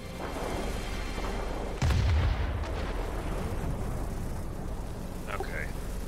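Fighter planes in a flight video game fire machine guns in bursts over a constant engine drone, with one heavier boom standing out near the middle.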